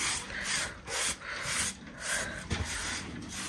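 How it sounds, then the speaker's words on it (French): A brush worked through a dirty dog's coat gives close, bristly rubbing strokes in several distinct swipes separated by short pauses, moderately loud and with nobody talking. "un petit coup de brosse pour ce petit dégueulasse"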